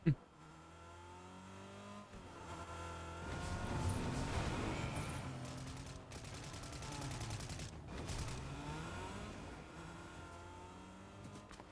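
A car drives and revs in the video game Fortnite, its engine note climbing and falling over about twelve seconds, mixed with bursts of gunfire and a voice talking.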